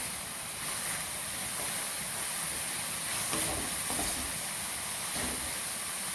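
Beef and vegetable stir fry cooking in a pan gives a steady, faint sizzle and hiss that continues evenly, with occasional light scrapes.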